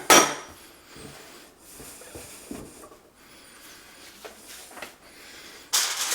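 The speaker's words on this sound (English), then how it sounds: "we're going to take our knife here and cut this in half" A knife cutting pie dough for chicken pot pie on a board gives a few soft scraping and tapping contacts, fairly close, with sharper knocks at the start and end and no talking.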